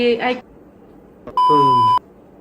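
A steady censor beep tone sounds for about half a second over a woman's Hindi speech, which comes just before it.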